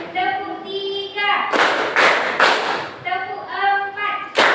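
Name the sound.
classroom clapping pattern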